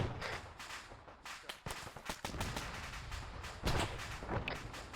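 Sharp cracks of gunfire and muffled explosion thumps in a military game battle sound at a distance, irregular bursts and single reports over a low background rumble.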